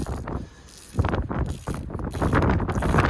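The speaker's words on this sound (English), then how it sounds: "Oh, it's windy." Gusty outdoor wind buffeting a microphone during repair work on a broken excavator bucket, loud rumbling bursts that rise and fall, with no speech.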